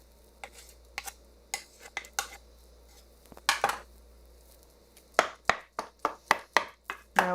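Eggplant ball mixture mixed with breadcrumbs in a bowl, a run of sharp utensil clacks and soft squishing strokes, sparse at first then quickening into a steady rhythmic series, close up and with no voice.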